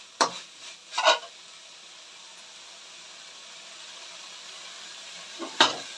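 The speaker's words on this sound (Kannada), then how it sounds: "ಕಡಿಮೆ ಉರಿ ಇಟ್ಕೊಂಡು ನೀವು ಚೆನ್ನಾಗಿ ಇದನ್ನು ಫ್ರೈ ಹಾಕಬೇಕಾಗುತ್ತೆ" Masala fries on a low flame in a pan for a potato curry: a soft, steady sizzle broken by a few brief stirring scrapes, faint and close.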